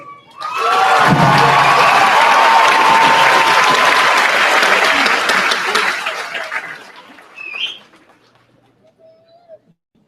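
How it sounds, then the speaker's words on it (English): A large high school graduation audience bursts into sustained applause and cheering that holds loud for several seconds, then thins out and fades, with a few stray claps and bird coos near the end. "And we also have a round of applause for Stephanie Mays, who's going to the Marin"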